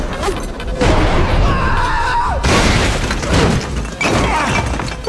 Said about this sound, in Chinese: 剧烈的爆炸瞬间便撕碎了彼得的面罩